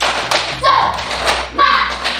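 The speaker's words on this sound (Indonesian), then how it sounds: "Kita tepuk semangat" Classroom of standing students doing a rhythmic tepuk semangat clapping chant, several sharp group claps and taps landing in a steady beat with shouted voices mixed in, close and fairly loud.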